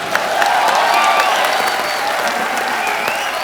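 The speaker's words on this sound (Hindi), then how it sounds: "तो जोरदार तालियां।" A studio audience at The Kapil Sharma Show breaks into sustained, dense applause, a loud even wash of clapping with faint cheers mixed in.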